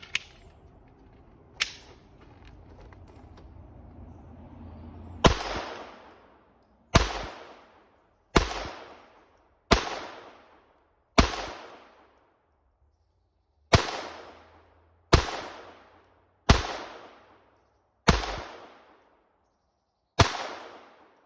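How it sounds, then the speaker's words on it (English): Glock pistol fired at a target about 25 yards away outdoors: eleven loud, sharp gunshots, each with a decaying echo, spaced roughly one to two seconds apart with a longer pause midway. "I'm going to start with the Glock."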